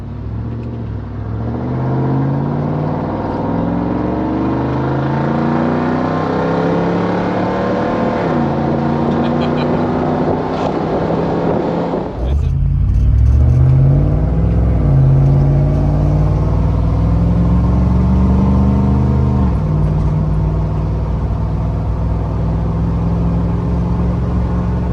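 First-generation Toyota Tundra with the muffler and resonator cut off, its V8 revving through a deep, raspy open exhaust; the pitch climbs and falls in several rev swells, with a harder, louder blip midway, heard up close.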